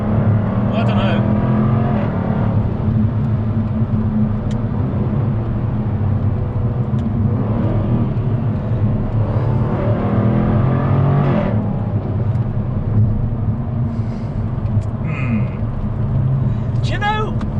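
Jaguar F-Type P450 V8 engine accelerating, a loud continuous low engine drone with rising revs through gear changes, heard from inside the car while a person talks over it.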